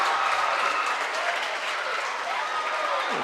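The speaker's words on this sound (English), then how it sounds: "the crowd is going wild" A basketball crowd at a Class 4 sectionals game between Donettes and Park Hills roars and applauds continuously, loud and dense, with cheering voices swelling through the whole stretch.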